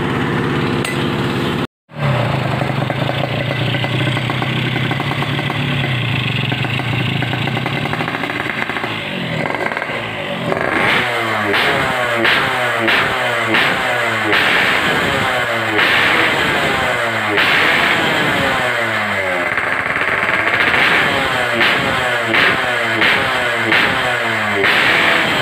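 A two-stroke engine on a Yamaha RX series motorcycle is kicked into life, then idles and revs with a rapid, uneven popping putter at close range, with voices speaking over it at times.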